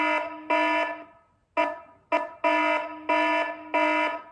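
A homemade smart security camera sounds its alarm in a series of loud, harsh electronic horn-like blasts, about seven pulses with short gaps, close and alone without talk.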